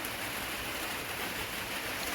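Rain falls steadily in the first rains of winter, a faint, even hiss heard alone without any voices.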